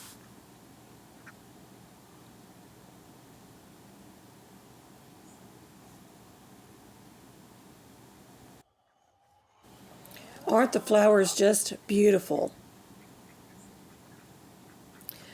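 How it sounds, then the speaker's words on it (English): Backyard ducks quack in a short, loud burst of repeated calls near the end, after a quiet stretch of garden ambience; a voice speaks briefly before them. "There goes our second set of ducks."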